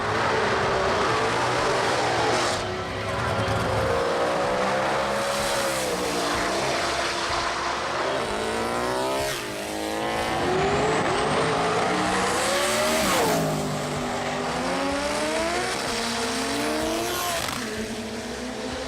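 Race cars in the J275 class at the Jamboree Sydney 2018 racing event roar loudly and continuously, with engines revving up and down in repeated rising and falling sweeps as cars pass, and no talking.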